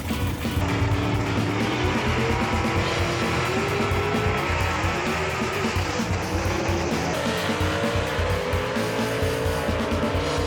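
Gasser drag race cars roar down Knoxville Dragway at a B-Gas event, a loud, dense, continuous engine howl with rising and falling pitch and tire noise throughout, dominating the scene.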